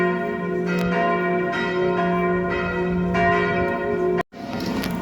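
Church bells ring out at Christmas in Nantes, a steady sustained peal of overlapping strikes lasting several seconds before a brief abrupt gap, then the ringing resumes, loud and fairly close.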